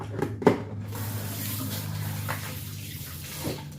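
Tap water runs steadily into a kitchen sink while fish is rinsed during home cooking, a continuous close splashing hiss with a few brief knocks near the start.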